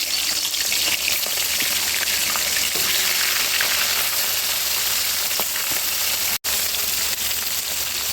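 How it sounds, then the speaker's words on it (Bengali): A bhetki fish head, rubbed with salt and turmeric, fries in hot oil in a kadai, giving a steady, loud, continuous sizzle throughout with a single brief break near the end. "মাথাটাকে ভেজে নেব"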